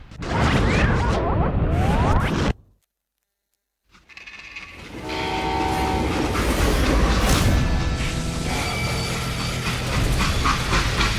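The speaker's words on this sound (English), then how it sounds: "how'd they stop this train in the first place?" In-game train from Call of Juarez: Gunslinger rumbling along with steady rail clatter and a dense mechanical roar, briefly dropping to silence before the loud running noise resumes and holds.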